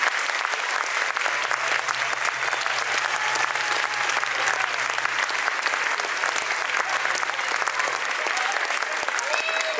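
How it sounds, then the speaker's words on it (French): Sustained applause from an audience in a hall at a Lille bal folk, cheering children after their folk dance; dense, steady clapping fills the whole stretch with a faint hum beneath. "Donc je pense qu'on peut applaudir tous les enfants ici."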